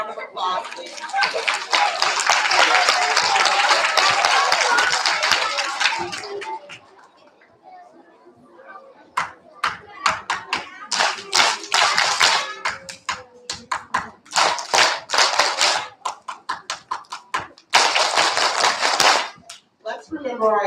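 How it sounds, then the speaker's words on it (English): Children and adults at a school kindergarten and first-grade awards assembly clap, first in a loud dense burst, then in scattered bursts of sharp claps with gaps between. "Give them a round of applause,"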